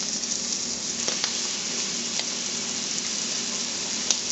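Small rabbit hearts flash frying in a hot pan give a steady, close hiss of sizzling oil with a few faint pops and crackles, with no talking.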